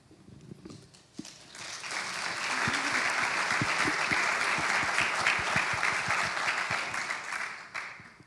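Audience applause at a summit talk builds from scattered claps into a full, sustained ovation that holds steady for several seconds before easing off, with a few voices briefly audible at the start.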